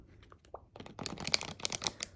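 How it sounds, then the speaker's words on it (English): Playing cards being shuffled by hand for a reading, a few soft taps at first, then a dense run of quick riffling flutters, close and fairly quiet. "So as I begin to shuffle the cards"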